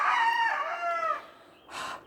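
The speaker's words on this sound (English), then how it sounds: "the chicken says hi" A chicken calls out in a front garden with a drawn-out, wavering vocalisation, followed by a short second cluck after a brief pause. It is close and clear, and no one speaks over it.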